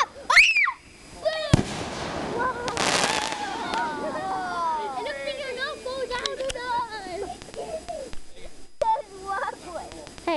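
Fireworks go off nearby with shrill whistling streaks, crackles and sharp pops, while people talk and call out over the bursts.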